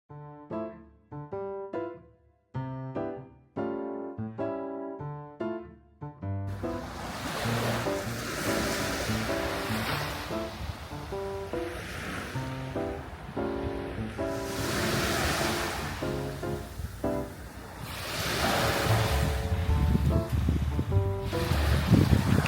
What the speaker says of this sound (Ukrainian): все-таки можна насолодитися морською прогулянкою